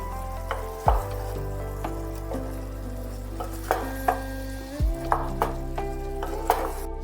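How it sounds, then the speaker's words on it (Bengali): Chicken pieces and tomato paste sizzle in a pot for a chicken stew, a steady close frying hiss broken by repeated scraping and clinking as a spoon stirs against the pan, with a couple of heavier knocks. "টমেটোটাও মাংসর সাথে ভালোভাবে একটু নাড়িয়ে চাড়িয়ে দিতে হবে"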